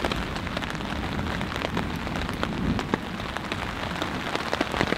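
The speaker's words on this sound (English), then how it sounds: "the rain is almost out of here completely" Steady rain patters on a backcountry tarp during a thunderstorm, a dense close crackle of drops with occasional louder individual hits and no voices.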